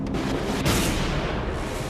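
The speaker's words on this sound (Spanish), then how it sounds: "En medio del humo de los escasos cañonazos brasileños" Cannon fire in a historical battle between allied Brazilian and Argentine forces, heard as a dense rumbling barrage with one heavier boom near the middle, continuous and fairly loud with no speech.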